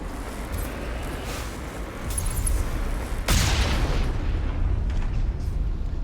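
Rocket blasts in Mass Effect combat: a dense, rumbling barrage with a sharp loud burst near the middle, then sustained heavy booming and debris noise continuing to the end, with no speech.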